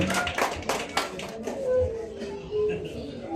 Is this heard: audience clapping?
yes